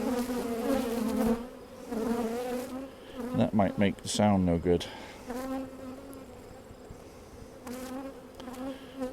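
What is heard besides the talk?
honeybees buzzing around hive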